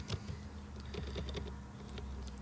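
Quick, light keystrokes patter on a computer keyboard in irregular bursts, close and fairly quiet with a low steady hum beneath.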